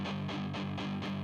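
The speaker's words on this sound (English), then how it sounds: "you'll hear a lot of songs where all they do is play palm muted power chords like this." Palm-muted power chords on a distorted electric guitar chug in a tight, even rhythm of about five short, punchy hits, played alone and close.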